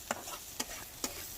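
Food fries in a pan with a soft continuous sizzle, broken by three sharp stirring scrapes spaced about half a second apart, close and fairly quiet.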